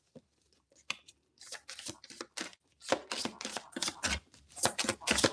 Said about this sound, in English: I can't even shuffle these, they so thin.